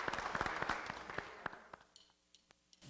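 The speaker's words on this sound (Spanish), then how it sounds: "Vamos a darle un aplauso, por favor." Crowd applause at a live concert in Tlaxcala, fairly faint and thinning out quickly as scattered final claps remain.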